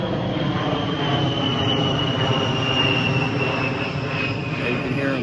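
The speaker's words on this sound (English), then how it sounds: "There's been a lot of military aircraft activity overhead this morning." Military aircraft flying overhead along the Appalachian Trail, a steady, broad droning roar that holds continuously at moderate loudness with no pauses.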